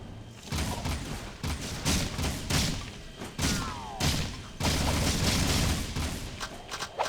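Rapid blaster shots from the Jak 2 video game crackle in repeated bursts against a busy, loud game soundscape, with a few short pauses between volleys.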